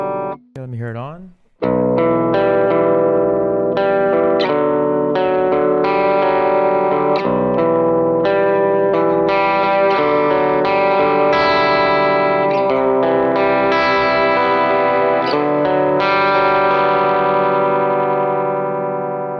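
Electric guitar on a split-coil neck pickup through a Neural DSP Archetype amp plugin with compression and effects, played as a loud, sustained, continuous melodic line of ringing notes after a brief opening bend.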